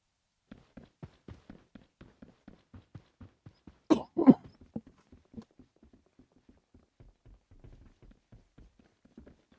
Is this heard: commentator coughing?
yes